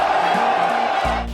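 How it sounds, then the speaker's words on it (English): A crowd cheers and whoops as a sound effect, a short loud burst of massed voices that holds steady for under two seconds. "Throw that to the crowd. The crowd goes wild."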